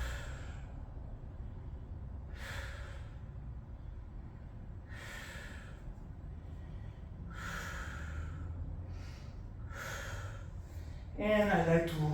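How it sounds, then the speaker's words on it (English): Heavy, slow breathing from someone holding a plow stretch during a stretching and mobility workout in a garage, a run of audible exhales and sighs repeating every couple of seconds, fairly faint against a steady room hum. "And I'm gonna stay here, breathing."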